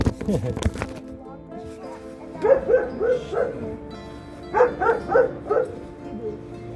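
A dog barks in short bursts from inside a car, two clusters of quick woofs with a whimper, close by, after some rustling and handling noise.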